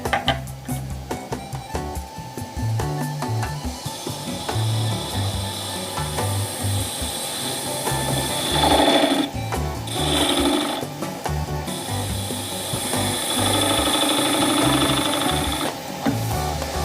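A gold resin piece being turned on a wood lathe, giving a steady, continuous scraping and whirring drone with rough, rubbing tool contact that shifts in pitch and texture as the cut goes on, close and fairly loud, with no talking.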